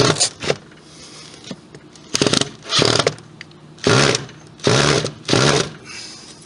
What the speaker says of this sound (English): I'm gonna have to work these to get the screws all tightened